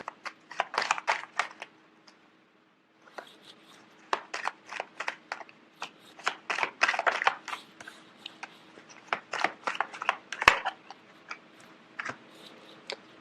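Tarot cards being shuffled by hand nearby, a series of quick papery riffles and taps in irregular bursts, with a short silent gap early on.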